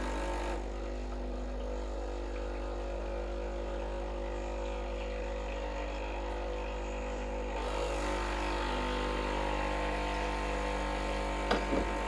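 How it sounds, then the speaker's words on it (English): Breville Barista Express BES870 espresso machine running a blank shot of hot water through the group head and portafilter, a steady pump hum and drone that shifts midway, ending with a brief clack. "I like to run a blank shot after, just to clean the grip head and clean the portafilter, and keep it fresh."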